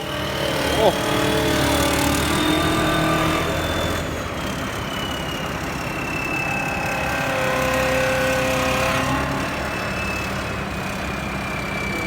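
A truck's JO8C turbo diesel engine idles steadily nearby with a low, rumbling drone and a faint whine, continuing throughout without pause.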